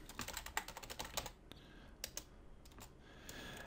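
Typing on a computer keyboard while entering a programming command in a game development tool: a quick burst of close, crisp key clicks, then a few scattered taps against faint room noise.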